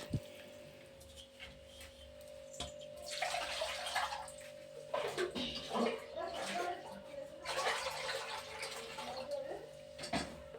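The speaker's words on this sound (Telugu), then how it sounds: "ఇప్పుడు ఇందులో వాటర్ వేసుకోవాలి" Water poured into a pot of rice while cooking biryani, coming in three splashy bursts of a few seconds each over a steady low electrical hum, with quieter stretches between.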